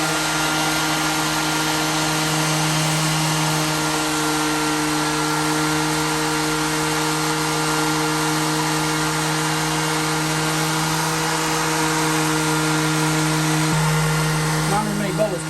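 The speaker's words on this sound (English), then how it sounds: "we are running an orbital sander with no sanding pad on it" An orbital sander running with no sanding pad vibrates against a wet concrete countertop form, making a steady, continuous electric buzz and hum that holds for a long stretch and cuts off near the end.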